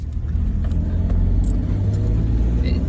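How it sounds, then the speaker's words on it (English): A small Suzuki Carry truck drives along, its engine a steady low rumble throughout with faint rattles and clicks inside the cab. "What is this truck? It's a Suzuki Carry."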